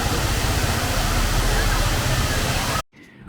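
Waterfall in a park at Sungai Lembing, a dense, steady roar of rushing water close by that cuts off abruptly near the end.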